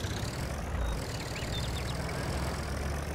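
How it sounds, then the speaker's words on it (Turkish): Bühler tractor engine idling in the video game Farming Simulator 22, a steady low rumble that holds evenly throughout at moderate level, with no talk over it. "Traktörün sesini bir tık açacağım abi."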